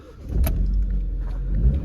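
A Vauxhall Astra GTC 1.4i Turbo petrol engine cranks and catches from inside the car, a short starter whirr followed by a low, steady idle rumble, close and without speech.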